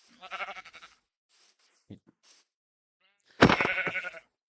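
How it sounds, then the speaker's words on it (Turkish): Sheep in the video game Minecraft bleat twice, short wavering cries near the start and a louder one near the end, separated by quiet gaps with brief soft sounds. "Üç tane bize koyun lazım şimdi."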